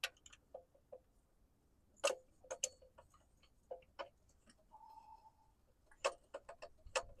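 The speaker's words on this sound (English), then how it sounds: "And then we're going to run our first bolt into the alternator." Metal bolt being threaded into the alternator of a 2007 Chevy Malibu during replacement, giving sparse, close clicks and ticks of a ratchet at irregular intervals with brief pauses, no voices.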